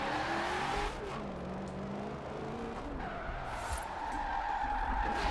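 Ford Mustang drifting in Forza Horizon, with tires squealing and skidding over a revving engine, the screech rising and sliding in pitch across a few seconds of game audio.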